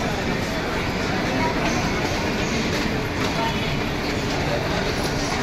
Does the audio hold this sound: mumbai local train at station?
yes